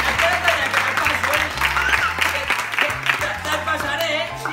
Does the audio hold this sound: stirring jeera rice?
no